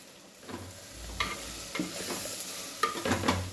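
Onions and masala sautéing in a pan while being stirred with a spoon, giving a soft continuous sizzle with scraping strokes recurring every half second or so, close and moderately loud, with no talking.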